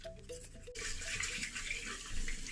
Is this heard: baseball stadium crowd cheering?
no